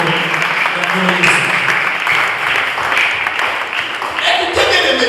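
A church congregation applauding and cheering, a continuous wash of loud clapping that fills the whole stretch, with voices mixed in beneath it.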